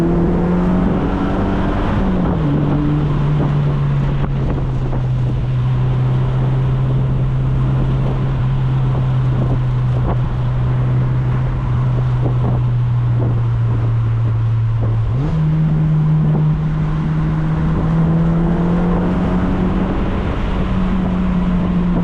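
A 2012 Mazda MX-5 Miata NC2 engine drones steadily while driving a mountain road, holding a loud, even note for long stretches with a brief shift in pitch near the start and another later, no talk over it.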